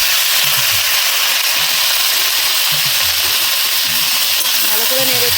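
Tomato pickle with soaked tomato powder being stirred and fried in a pan, a steady broad sizzle with soft scraping underneath, continuous and close throughout.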